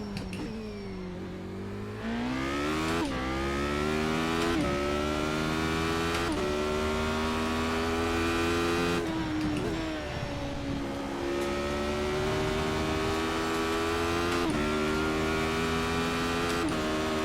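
A Formula Renault 3.5 race car on the Imola circuit in a racing video game, its engine whining loudly through repeated upshifts, each rising pitch sweep cut off by a short gear-change drop, with no voices.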